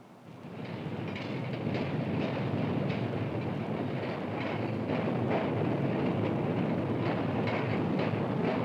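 Rapid transit train running steadily on rails, a continuous loud rumble with rhythmic clickety-clack over the joints and some wind buffeting, no voices.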